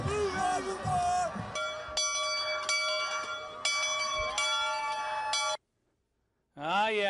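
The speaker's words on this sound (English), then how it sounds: "Bell rings blue, everyone!" A large bell rings at an annual high school football bell game, bright sustained clangs struck repeatedly, loud and close, with crowd noise and cheering mixed in before a brief silence.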